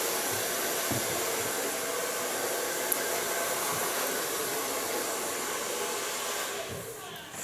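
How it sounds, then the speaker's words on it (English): A hair dryer blow-dries a pixie haircut, a loud, steady close-up roar of airflow holding for several seconds before easing off at the end. "So far blow drying."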